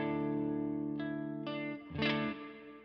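An electric guitar played through a Strymon Timeline delay pedal on a pedalboard, sounding sustained chords that change a few times and ring out with a shimmering, effected tone.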